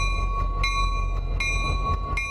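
A South County commuter rail train at Wickford Junction in North Kingstown, heard from inside or alongside, with a steady low rumble under a constant tonal whine and periodic sharp clanks and squeals.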